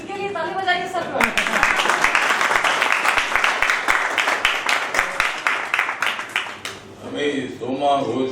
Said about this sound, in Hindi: इनके लिए ताली बजाइए सब लोग।